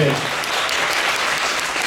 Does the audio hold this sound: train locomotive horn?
no